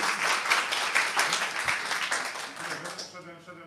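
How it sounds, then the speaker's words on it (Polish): Applause for Paweł Żuchowski, the subject of a book, from an audience at a book premiere and talk. A dense patter of clapping fills most of the moment, then thins as a voice starts speaking near the end. "Brawa dla Pawła."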